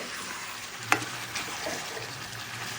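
Pakku, a spiced meat dish with bay leaves, frying in a pan with a soft steady sizzle as it is stirred, a brief scrape or clink near the start, close and moderately loud with no talking.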